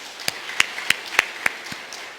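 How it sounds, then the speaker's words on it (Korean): A handful of separate, sparse hand claps ring out in a church during a Sunday worship service, each a crisp single clap with short gaps between, fairly quiet against a hushed room. "우리 박수로 하나님께 영광을 돌리겠습니다."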